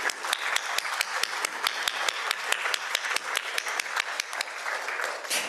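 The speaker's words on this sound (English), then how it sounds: "So let's give a round of applause to Varghese Somerset." Applause from a Rotary luncheon crowd, a small audience's clapping with distinct, fairly regular claps close by, steady and bright throughout with no talk over it.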